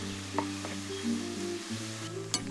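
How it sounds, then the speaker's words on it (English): Shallots fry in hot oil in a pan over medium heat, a steady close sizzle with a few soft scraping stirs and light clinks scattered through it. "When the oil is hot, put the shallots. Stir from time to time until they are golden."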